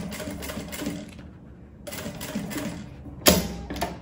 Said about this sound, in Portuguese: vou contornando a carteira, passando a costura já de uma vez só